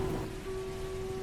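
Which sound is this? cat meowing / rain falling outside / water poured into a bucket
rain falling outside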